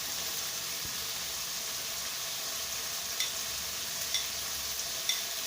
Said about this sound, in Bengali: ছোলা দিয়ে ভালো করে নেড়ে চেড়ে নেব।